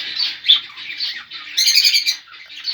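Harsh, loud squawks and shrieks from parrots fighting in a cage close by, bursting in rapid agitated bouts, with a brief fluttering scuffle in the middle.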